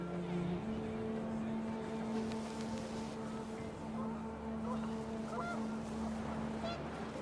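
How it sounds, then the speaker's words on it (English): Panicked geese honk in the video game What Remains of Edith Finch while the wind picks up, their calls rising over a steady low rumble and a droning hum, fairly faint and with no speech. "The wind picked up, and panicked geese appeared and quickly went"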